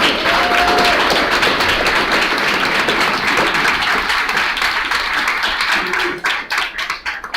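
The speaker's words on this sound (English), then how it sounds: "We're going to give them a round of applause." Loud, dense round of applause from an audience at a panel discussion event, sustained close clapping that thins into scattered individual claps at the end.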